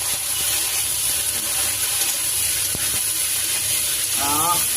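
Potato and snake gourd drop into a pan of frying prawns, raising a steady broad sizzle with a few clinks and stirring sounds; a voice briefly speaks near the end.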